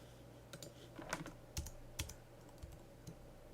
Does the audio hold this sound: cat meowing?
no